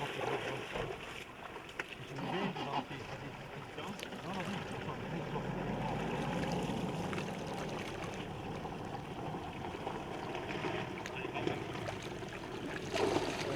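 Steady rushing water from a tap filling a basin outdoors, a continuous broad gush lasting throughout with occasional splashes and faint background voices.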